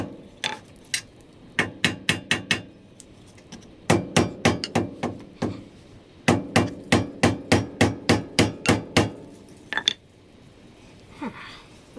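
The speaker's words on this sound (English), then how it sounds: "Maybe tap it inward a little." Repeated sharp hammer taps fitting L&W radius rods onto a Pro XP, close and crisp, coming in quick bursts of several even strikes separated by short pauses.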